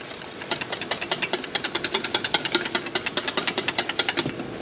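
A whisk beats beer batter for battered fish in a bowl. The strokes come as a loud, fast, even series of sharp clicks and taps, very close, with no voices.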